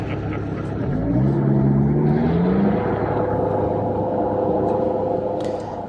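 A SHERP amphibious ATV climbs a steep hill, its engine a steady close drone with a rising, wavering whine that settles into a sustained tone.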